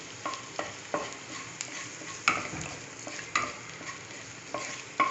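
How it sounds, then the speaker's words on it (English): Garlic sautéing in a little oil in a kadhai: a soft continuous sizzle broken by regular scraping stirs of a spoon against the pan, close and moderately loud, with no voices. "You saute it for some time."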